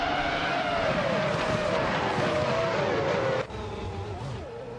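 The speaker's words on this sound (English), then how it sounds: "the race has just kicked off at Istanbul Park and Ovidus is starting on pole, piloting the classic 2000 Sauber C19" Race car engines from a grid start at Istanbul Park, led by a 2000 Sauber C19, rise in a steady high whine, loud and near, dropping suddenly partway through, with no voices.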